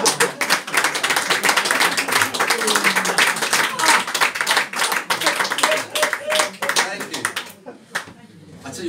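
An audience at a live card magic show claps loudly and steadily in brisk, dense applause, which thins and tapers off near the end.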